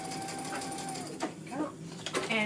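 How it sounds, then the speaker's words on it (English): A sewing machine top stitches through a pleated fabric mask (Essex Pleated style), whirring steadily up close, with short bursts and pauses and some speech layered over it. "Just continue stitching right onto the mask."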